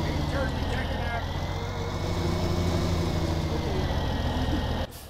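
A tractor engine idles in Farming Simulator, a low steady rumble with a droning hum, close and constant, then it cuts off abruptly near the end, while a voice talks over it.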